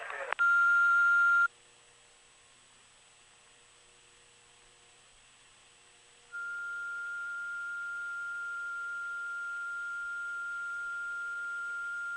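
Early-1980s telephone line tones after a recorded parts-order message: a loud burst of mixed tones, then a long faint hum, then a steady sustained single-pitch tone that holds to the end.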